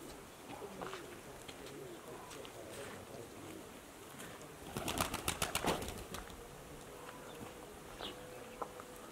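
Racing pigeons coming in to land on a roof during an outdoor competition: a burst of rapid wing flapping mid-clip over faint cooing and distant ambient noise.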